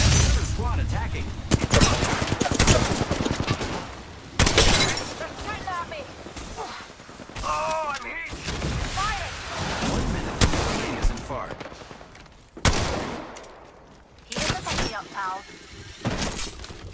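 Sharp gunshots and bursts of fire in a shooter video game, loud irregular cracks and shattering impacts mixed with voices and chirpy effects, pausing and resuming in clusters.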